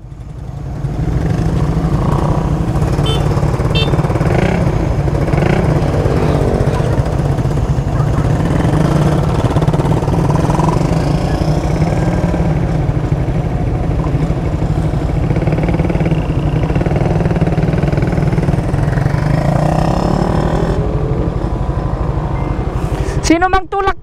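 Many Suzuki Raider FI motorcycle engines at a busy gathering, a dense, continuous drone and rumble of idling and revving bikes, with people talking over it throughout.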